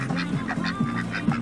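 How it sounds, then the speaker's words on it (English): Wild geese on Norfolk Island honk repeatedly in a quick, uneven series of nasal calls, close and fairly loud. "These geese run around the island."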